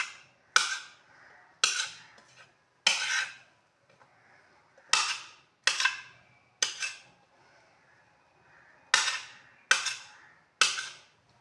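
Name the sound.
knife roughly cutting boiled eggs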